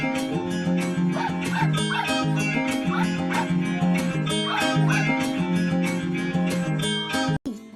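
A puppy whimpers and yips in short rising cries over steady, busy cartoon music, with the music cutting out abruptly near the end.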